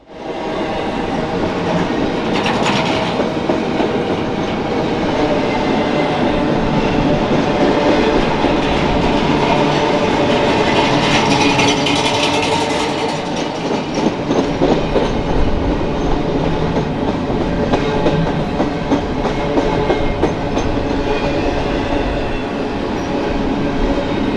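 A long BNSF double-stack freight train rumbles steadily past on a curve in Arizona, wheels clattering and rails rattling continuously at close range, loud throughout with no horn.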